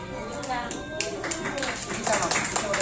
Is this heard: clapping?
yes